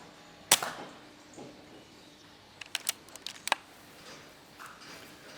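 An airgun fires at a rat during a hectic daytime rat shoot by a bank: one sharp, loud crack near the start, then a scatter of smaller clicks and taps a few seconds later, with no talking.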